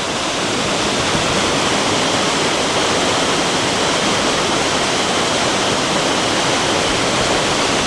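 A waterfall in Glen Spean, Scotland, roars in a dense, steady rush of white noise, close and loud, unchanging from start to finish.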